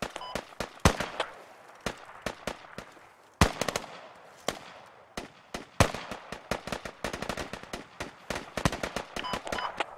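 Gunfire in the military video game Squad, sharp cracks in irregular single shots and quick clusters, some near and loud, others fainter, scattered across a tense firefight.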